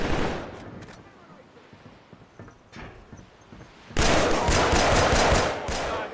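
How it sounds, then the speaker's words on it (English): EBR rifle fire in the shooter Killzone 3, scattered softer shots and game noise at first, then a sudden loud, close burst of rapid, crackling rounds that carries on to the end. "Want my EBR rifle? I'll blast you."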